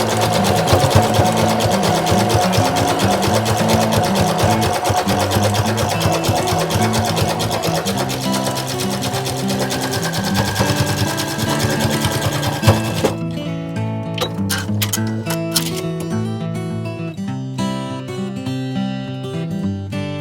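A sewing machine stitches back and forth over a seam on a komebukuro, a Japanese rice bag, making a steady loud mechanical whir that runs without a break and then changes to a sparser, lighter chatter of needle strokes near the end.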